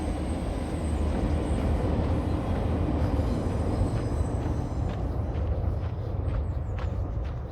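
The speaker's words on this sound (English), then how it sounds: "Oh, subway." A Stockholm subway train rumbles past outdoors on an icy winter walk in Traneberg, a loud, continuous roar of wheels and cars with a faint high squeal of wheels on the rails, easing off slightly toward the end.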